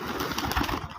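Pigeons coo softly in a brief, murmuring cluster close around a handler, with no talking.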